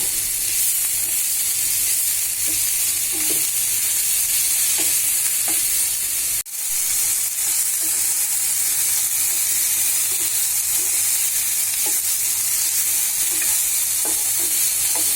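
Mashed rohu fish with a handful of coriander leaves fries in a pan, giving a steady bright sizzle with soft intermittent stirring scrapes and one sharp knock partway through, and no talking.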